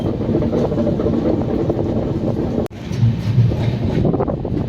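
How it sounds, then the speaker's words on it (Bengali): A train pulls into Kathua Junction on the way to Jammu, its loud steady rumble filling the space nearby, broken by one abrupt momentary dropout midway before the roar resumes. "এই আমাদের ট্রেন এখন এসে পৌঁছলো কাথুয়া।"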